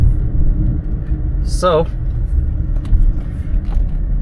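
Low, steady drone and road rumble inside a moving SUV with a faulty rear differential making noise at the rear, continuous throughout, with someone briefly speaking over it.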